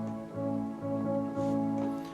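A heavily processed piano, treated so it no longer sounds like a piano, gives sustained, blurred, pad-like chords that swell in three gentle waves and stand alone without talk.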